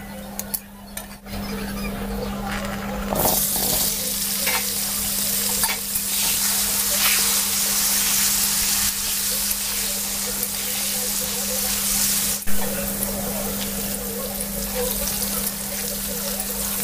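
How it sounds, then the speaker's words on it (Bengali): Small cut potato pieces fry in hot oil with bay leaf, chilli and whole garam masala, a continuous loud sizzle with occasional scraping stirs and clinks of a utensil against the pan, alongside a steady low hum. "ছোট ছোট করে আলু ধুয়ে আর কেটে রেখেছি, সেটাও আমি লাল লাল করে ভেজে নেব।"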